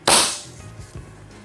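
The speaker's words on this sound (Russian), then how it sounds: "Защелкнуть все до конца и произвести выстрел." A single sharp, hissing crack of a Baikal MP-555K PCP air rifle shot, close and loud, quickly fading, followed by a couple of faint mechanical clicks.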